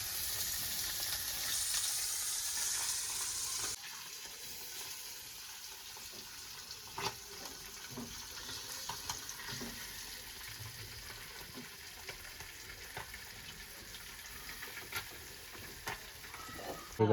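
Fresh anchovies (mandeli) frying in a blackened pan, a steady close sizzle that drops a little after a few seconds and continues with scattered crackles and pops.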